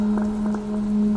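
Rain falls steadily through a cold night, a continuous soft patter with a faint droplet texture, laid over a low, steady hum.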